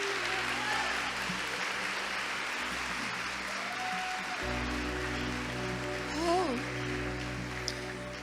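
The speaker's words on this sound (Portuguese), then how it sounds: "Vamos aplaudir o Senhor por essas vidas." Church congregation applauding as a continuous, fairly distant clatter of hands, with sustained instrumental tones entering partway through and a voice rising briefly near the end.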